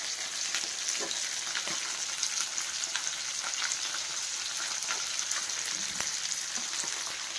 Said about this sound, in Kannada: ಈಗ ಇದನ್ನೆಲ್ಲ ಹಾಕಿ ಫ್ರೈ ಮಾಡ್ಕೋಬೇಕು.